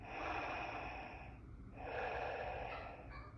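Two long, breathy inhale-like hisses from the small speaker of a LEGO Star Wars Darth Vader's TIE Fighter (75421) set, played close up with a short pause between them.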